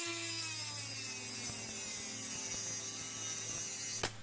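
Trimming down the threaded housing of an MRC radio-controlled shock absorber, a steady close-up machining or cutting drone with a constant low hum and a few faint ticks, ending in a sharp click as the tool stops.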